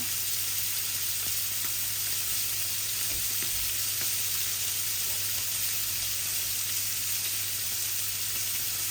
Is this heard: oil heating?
yes